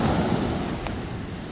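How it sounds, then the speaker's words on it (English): Pacific Ocean surf breaks along the shore at Spooner's Cove on California's Central Coast, a continuous loud wash of rushing water with wind, and no talk. "There's the Pacific Ocean."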